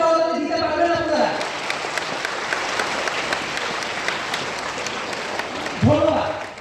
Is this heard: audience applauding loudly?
yes